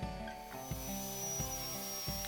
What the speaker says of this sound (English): I'm now cutting the legs to size